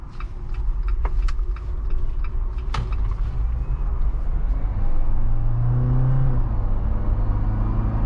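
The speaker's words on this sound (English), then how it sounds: "This is a very loud engine." A 2023 Jeep Wrangler Rubicon 4xe 20th Anniversary with a 2-liter turbo engine drones loudly from inside while driving, a rising engine tone near the end as it pulls, with clicks and creaks of the cabin early on.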